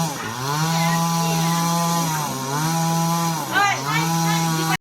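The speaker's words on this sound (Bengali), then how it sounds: "মেশিন দিয়ে কাটছে যে" A motorized saw cuts down thick trees outdoors, a loud, close, droning whine that holds steady and then dips and rises in pitch as the blade bites and frees.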